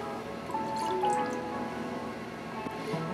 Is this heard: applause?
no